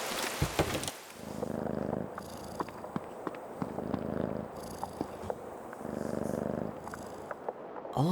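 A scared cat purrs steadily in the Creepy Tale 2 video game, a soft rhythmic rumble pulsing in slow waves with brief clicks and taps scattered over it.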